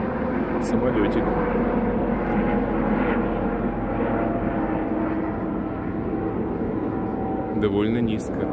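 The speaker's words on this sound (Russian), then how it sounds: "Нет, самолетик." A low-flying airplane drones overhead at dusk near Coney Island, a loud continuous rumbling engine roar holding steady throughout, with a person talking briefly near the end.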